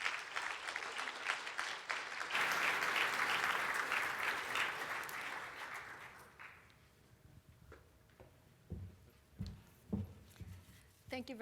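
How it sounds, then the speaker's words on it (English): Applause for a panel on reverse spinoffs, a broad, fairly distant wash of clapping that swells over the first few seconds and fades by the middle, followed by quiet room noise with a few knocks and footsteps. "Let's give the panel a big round of applause."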